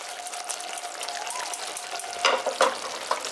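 Dahi pabda fish curry is stirred with ghee in a frying pan, with a soft continuous sizzle and a couple of louder scraping stirs near the end.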